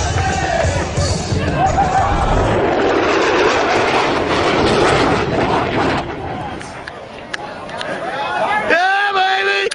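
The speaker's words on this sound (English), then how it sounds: "the Super Hornet high-speed pass" A Boeing F/A-18 Super Hornet makes a high-speed pass over a crowd, a loud broadband roar that builds and sweeps by before fading, with crowd chatter and a voice announcing at the end.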